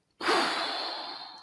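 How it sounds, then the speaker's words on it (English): A person exhales slowly and steadily during a breathing exercise, a single long breathy outflow close to the ear that starts abruptly and fades gradually. "let's try breathing exercises"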